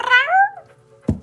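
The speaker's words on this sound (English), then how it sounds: "You hear the kitty cat?" A cat gives one clear, fairly close meow with a falling pitch, then a short soft sound near the end against a low background hum.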